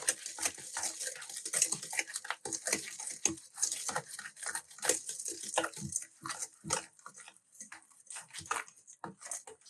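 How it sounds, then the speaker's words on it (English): Lemon juice and lemon zest being whisked together in a bowl: quiet, rapid, irregular scraping and tapping strokes repeating steadily throughout, with no talking. "the lemon juice, and the lemon zest. We're going to whisk this up together"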